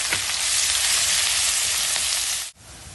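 Onion pieces with tempering spices sizzle loudly in hot oil while cooking bhindi masala, a dense, steady frying hiss that holds for about two and a half seconds before dropping off abruptly.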